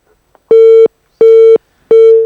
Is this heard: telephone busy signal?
yes